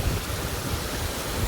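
A strongly flowing river rushes past, a steady, close, broadband watery roar with no breaks and no voices.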